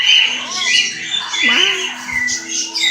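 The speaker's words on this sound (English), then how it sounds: "Those are all birds. It's a huge thing of birds." A large flock of birds squawking together, loud, close and continuous, with overlapping harsh calls and a person talking over them.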